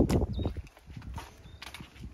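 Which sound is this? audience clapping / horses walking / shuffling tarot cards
horses walking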